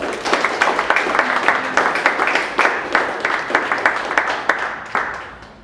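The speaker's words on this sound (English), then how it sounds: "Let's give her a round of applause." A room of audience members at a Dallas startup pitch event breaks into steady, sustained applause, dense clapping with a few sharper hand claps standing out, holding at a fairly even level and tapering slightly at the end.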